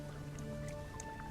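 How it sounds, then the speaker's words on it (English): Sparse, faint rain drips in a tabletop role-playing game ambience, a few soft isolated droplets over a low steady hum. "As you guys are standing there, it begins to rain."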